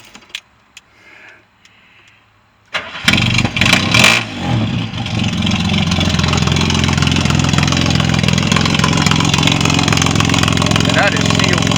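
Ford 300 cubic inch inline six with an Offenhauser conversion cranks after a few quiet clicks and jingling keys, catches with a loud burst and revs, then settles into a steady, close idle.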